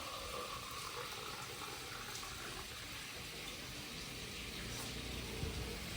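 Steady running water pours continuously at low volume into a pot holding chicken, a smooth broadband rush with no breaks.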